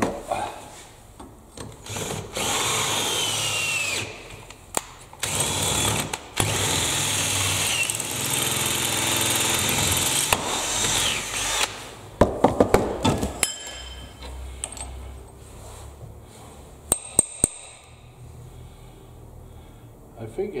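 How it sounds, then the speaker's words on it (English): Power drill bores into metal on a homemade baja go-kart, running in several bursts of a few seconds each with pauses and clanks between, while people talk at times nearby. "Get your drill."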